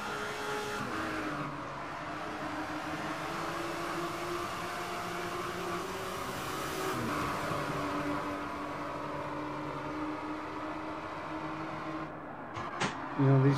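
Continuous race car engine drone with steady whine in the video game Gran Turismo 6, holding throughout, with a few brief higher revving bursts near the end.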